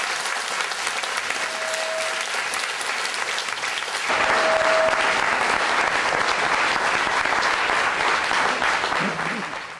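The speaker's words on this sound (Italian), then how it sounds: "un applauso" Sustained applause from an audience at a book presentation in Savignone, dense and even throughout, growing a little louder midway, with faint voices underneath.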